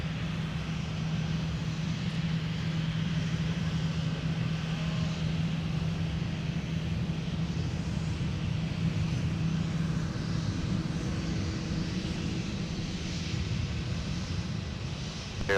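Delta airliner landing on runway 1 right at Minneapolis–Saint Paul airport, a steady continuous engine roar with a low tonal hum that holds unchanged throughout.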